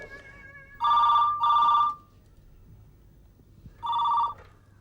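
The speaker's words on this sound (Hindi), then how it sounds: "क्या है यहाँ त्रिपाठी, ये कोई समय है फोन करने का?" A telephone bell rings in an office in a Hindi TV comedy serial: three loud, close double-trill bursts with short gaps between them, and no talking.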